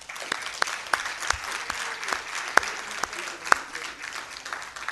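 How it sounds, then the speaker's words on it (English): A seated audience at a session gives light, sparse applause with scattered individual claps over a soft background murmur. "Can we have a lot of applause from them?"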